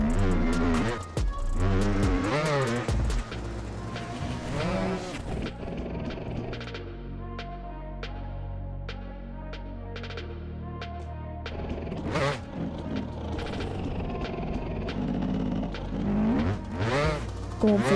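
A dirt bike engine in the MX Bikes motocross game revs loudly in sharp climbing bursts, settles into a quieter varying drone through the middle, then screams through hard rising revs again near the end.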